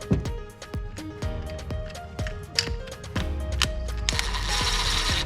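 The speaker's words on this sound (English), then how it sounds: "tighten these bolts down" A ratchet clicks in quick repeated bursts, close and crisp, while brake caliper bolts are tightened on a BMW 550i F10 5 Series during a brake pad install.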